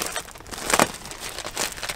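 A plastic bag holding plastic deer fence crinkles and crackles close by in a few short rustling bursts, with no speech.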